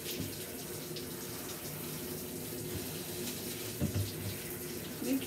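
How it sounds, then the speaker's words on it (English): A shower head sprays water steadily while a Pomeranian is being bathed. The rush is soft and continuous, with a few faint splashes near the end and no talking. "This is a very good shower head."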